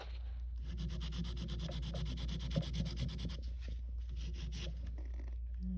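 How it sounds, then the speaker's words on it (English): Steady, close scratchy rubbing of a white sanding block buffing the surface of acrylic nails, a continuous gritty swish with brief pauses. "I'll take a white sanding block and just buff the surface."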